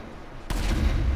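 RPG rocket explosions in GTA V Online: quiet at first, then one sudden loud blast that leaves a heavy booming rumble rolling on, with no voices over it.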